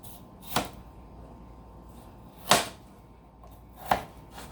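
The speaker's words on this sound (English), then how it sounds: "Just gonna cut it up in chunks. Nothing too fancy. Just cut it up. Bite-sized pieces." A knife chops a potato into bite-sized chunks on a board, giving three sharp, separate cuts spaced about 1.5 seconds apart, each close and distinct over a faint background.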